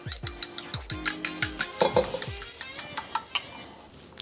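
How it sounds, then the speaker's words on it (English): Eggs are lightly scrambled in a pan for restaurant-style chicken fried rice, with quick rhythmic clinks and scraping strokes repeating close by and no voices. "Went ahead, cracked my eggs. Let's go ahead and just, you know, lightly scramble them."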